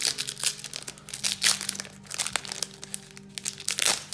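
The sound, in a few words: tearing open a Cardfight Vanguard booster pack wrapper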